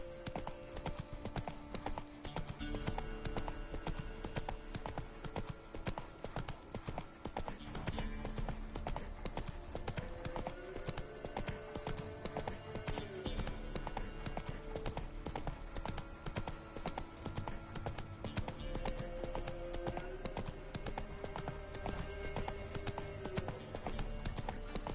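Hooves of Roach, Geralt's horse in The Witcher 3: Wild Hunt, clip-clop in a steady galloping rhythm throughout, close and continuous under game music, with a brief neigh possible.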